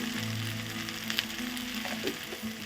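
Okra and dried shrimp curry fries in a pan, a continuous soft sizzle with occasional light scraping of stirring, moderately quiet and close, no talking.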